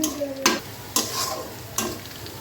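Onion and garlic fry in leftover chicken oil, sizzling while a utensil stirs, with three sharp scraping strokes spaced across a short, steady frying hiss.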